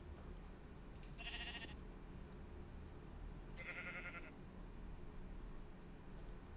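Two separate bleats from sheep in a Minecraft Galactic Science modpack, each short and faint, heard over a constant low background hum.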